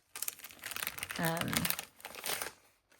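Plastic packaging of planner stickers being opened up close, with crinkling and rustling bursts in quick succession and a voice briefly heard underneath.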